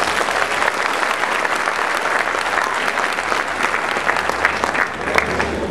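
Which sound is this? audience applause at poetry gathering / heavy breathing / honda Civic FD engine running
audience applause at poetry gathering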